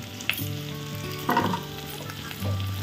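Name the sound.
turmeric powder and spices frying in pan for khichuri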